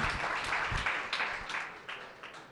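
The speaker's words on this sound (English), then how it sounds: "Please give a round of applause for Judd Weiss." An audience at a conference applauds a speaker's introduction with dense, steady clapping that slowly thins out over a couple of seconds.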